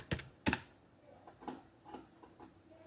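Fingers tapping text on a mobile phone's touchscreen keyboard, a few soft, separate clicks spaced irregularly over a quiet background.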